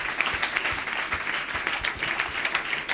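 A church congregation at Sunday worship claps together in a steady, dense patter that fills the space, loud and continuous, with no voices standing out.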